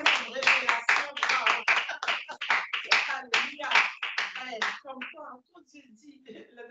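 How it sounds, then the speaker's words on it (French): Congregation at a Shabbat gathering clapping in a quick, steady rhythm, sharp hand claps close and fairly loud for about five seconds before thinning out into a few scattered taps and quiet background noise. "Applaudissons la servante du Seigneur."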